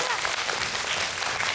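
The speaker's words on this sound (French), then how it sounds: "on peut l'applaudir" An audience of children and adults at a Christmas storytelling show claps in a short, lively burst of applause, close and full, with voices mixed in.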